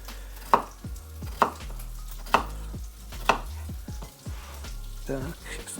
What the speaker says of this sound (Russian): А я сейчас пока поджарю картошку